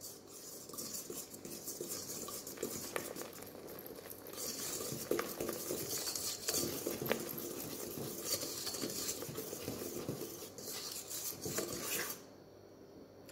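Chocolate muffin batter with baking powder is mixed in a bowl, a close run of scraping, rubbing strokes that lasts for most of the stretch, then drops off near the end.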